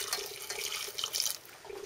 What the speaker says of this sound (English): a little bit more water, just enough to cover it